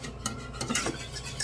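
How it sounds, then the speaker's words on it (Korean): A spoon stirring a white kimchi porridge mixture in a pot over low heat, with soft scraping and light clinks in an irregular rhythm, close and fairly faint, no talking. "잘 저어주세요."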